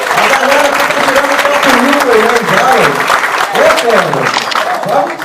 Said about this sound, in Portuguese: Salve de palmas, pessoal!